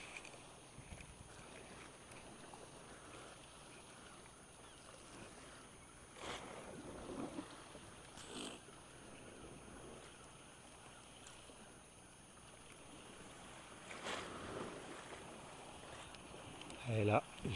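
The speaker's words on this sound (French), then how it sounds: "Vous entendez le bruit des vagues dans la structure." Waves slapping and sloshing against the pontoon structure of Arromanches harbour, heard from a kayak close to the concrete, with soft irregular surges, occasional splashes and wind noise.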